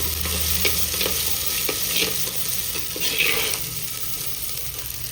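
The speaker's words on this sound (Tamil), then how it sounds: "இது வெங்காயம்லாம் வதங்கிறதுக்காக" Chopped onions sautéing for a fish curry, a steady close sizzle with scraping stirs every second or so, no voices.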